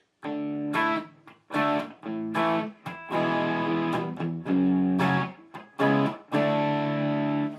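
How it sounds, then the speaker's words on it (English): Electric guitar with a crunchy, basic 808-style distortion from a Line 6 Helix amp modeler plays chords and riffs in short phrases separated by brief pauses, loud and up close. "Just a basic distortion."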